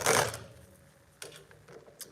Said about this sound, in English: That is a shuffle.